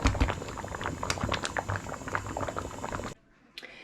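Water bubbles and burbles vigorously at a rolling boil in a pot with jars, close and busy, then abruptly goes quiet near the end.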